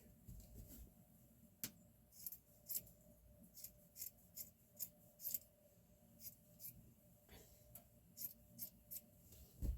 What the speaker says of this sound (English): But I do need to cut this side seam.